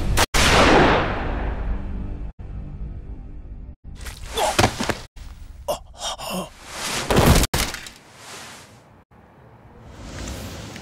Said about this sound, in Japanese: 銃声がしたから駆けつけたのよ